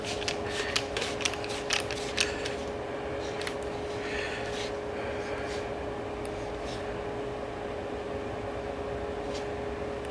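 Front brake caliper bolts are tightened on a 2013 Nissan Versa. A quick burst of ratcheting clicks comes early, then a steady mechanical hum continues with only faint scattered clicks.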